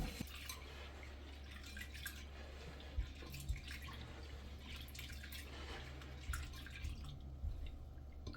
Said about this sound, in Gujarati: 1 કપ ચણાની દાળ, એને આપણે 2-3 પાણી સરસ ધોઈ લઈશું.